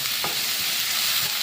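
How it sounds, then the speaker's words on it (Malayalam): Ground spice paste and curry leaves sizzle steadily in hot coconut oil while being stirred, a bright continuous frying hiss with a brief scrape of the spoon near the start. "നമ്മൾ അരച്ച് വെച്ച അരപ്പ് നമ്മൾ വെളിച്ചെണ്ണയിലേക്ക് ഇട്ടിട്ടുണ്ട്."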